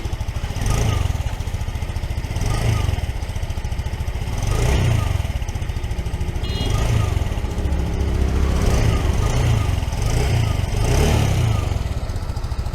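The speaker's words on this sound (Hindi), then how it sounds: "और एग्जॉस्ट का जो साउंड है वो आप सुन सकते हो किस तरह का है।" A 2024 TVS Jupiter 110 scooter idles after a quiet start, its exhaust giving a steady low engine hum with a few gentle swells, close and continuous without talk.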